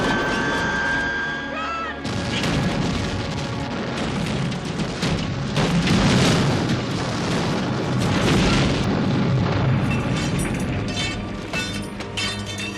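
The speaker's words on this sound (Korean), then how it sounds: "하지만 수송선도 에일리언의 습격을 받게 되며 추락하여 폭발하고 맙니다." The Aliens dropship crashes and explodes, a dense, continuous roar of booming blasts and crunching debris that rumbles loudly and steadily throughout, with a quieter hum before the impact begins.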